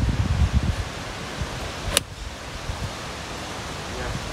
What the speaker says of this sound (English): A lot of winds, huh?